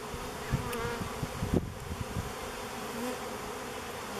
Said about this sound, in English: See a lot of bees in the air.